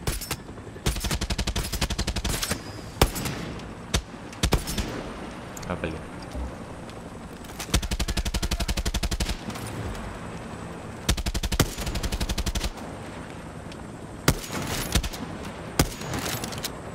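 Bursts of rapid automatic gunfire in the video game Far Cry 6, loud and close, come in several separate volleys with short pauses between them over a steady background hum.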